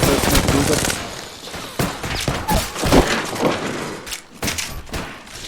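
Rapid gunfire bursts and thuds in an Apex Legends match, dense and loud with strings of rattling shots and a few sharp gaps.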